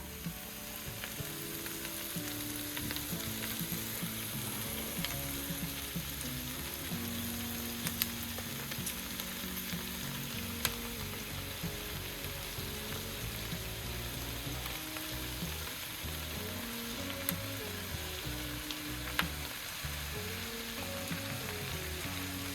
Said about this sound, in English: Our onions have been cooking for a few minutes.